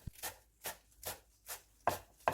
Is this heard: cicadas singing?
no